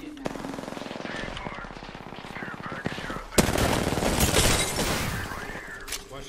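Rapid automatic gunfire from a first-person shooter game, sustained bursts with a louder, denser volley midway, heard under voices talking throughout.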